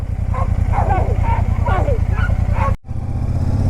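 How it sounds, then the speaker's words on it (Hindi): A dog barking while herding animals along a Himalayan road, several sharp barks heard under the steady rumble of a Royal Enfield Super Meteor 650 motorcycle engine. "वो डॉगी देखो बीच में इनके भौंक भौंक के उनको ले जा रहा है"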